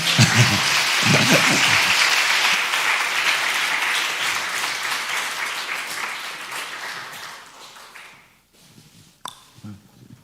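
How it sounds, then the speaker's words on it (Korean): A church congregation applauding during a Sunday afternoon service, dense clapping that starts strong and gradually fades out, followed by a near-silent pause and a few stray sounds. "박수 한번 부탁드릴게요"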